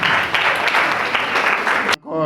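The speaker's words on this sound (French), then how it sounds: "sous vos applaudissements" Audience applause at a school maths competition ceremony in Thiaroye, a loud wash of clapping that cuts off abruptly, followed by a brief spoken voice.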